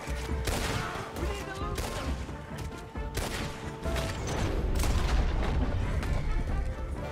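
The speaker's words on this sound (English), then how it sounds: "That explosion came just in time." Explosions and heavy gunfire in Red Dead Redemption 2 form a dense barrage of booms and rapid shots that rumble on without a break, with louder blasts standing out over the battle noise.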